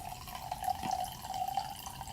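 Merlot wine trickles from a bottle into a glass in a thin, steady pour, with a faint rising tone as the glass fills and no talking over it.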